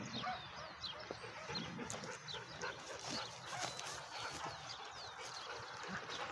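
A dog whimpers and yips outdoors on the way to a river, the small cries scattered through steady birdsong and rustling ambience at a moderate distance.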